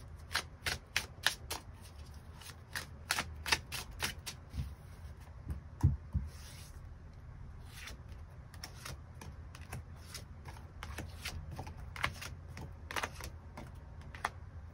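Tarot cards are shuffled and drawn in a steady run of soft, crisp riffles and flicks, close and fairly quiet, with brief pauses between clusters and no voices.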